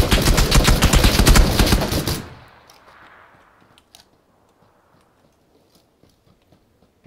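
Gunfire in a video game shootout: a dense, loud burst of rapid shots for about two seconds, then a sudden cut to near silence with only faint ticks.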